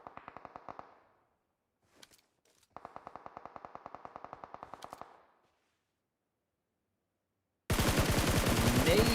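Gunfire from PUBG Mobile during a tournament match: two rapid automatic bursts of even, closely spaced shots with a pause between, then a sudden loud, dense blast resembling a grenade explosion at the end, with no voices.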